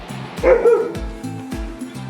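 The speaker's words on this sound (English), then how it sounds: "She hears a dog next door." A dog next door barks in a short series of yips and bow-wows, moderately loud with a steady rhythm, under a quiet indoor setting on a foggy day.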